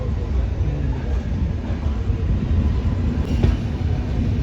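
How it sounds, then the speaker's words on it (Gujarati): A train rumbles low and steady at Wadhwan railway station, a heavy continuous drone with faint rattling and a brief high squeal near the end. "ટ્રેન હમણાં ઉપડવાની છે"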